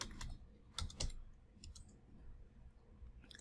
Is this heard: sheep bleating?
no